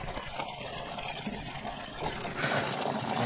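Running water splashes and trickles steadily close by at a canyon in Turkey, a soft continuous flow that grows a little louder toward the end, with no talk over it.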